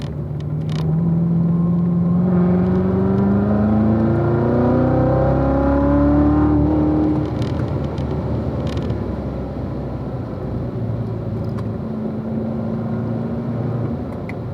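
A race car laps a road course at Ron Fellows, its engine sustained and loud with rising and falling pitch through gear changes and corners, with steady road rumble throughout and no talking.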